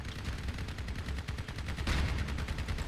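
Rapid bursts of gunfire from armed vehicles during a Crossout clan war battle, dense and continuous with overlapping shots and a heavier impact near the middle, all under a loud mechanical rumble.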